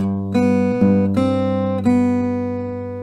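Acoustic guitar picks out a short melodic phrase, four plucked notes ringing over a sustained low tone, close and clear, decaying slowly at the end with no voice.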